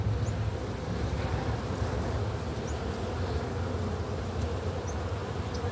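Honey bees buzz steadily and densely during a January hive inspection, a close, unbroken hum that fills the whole stretch without pause.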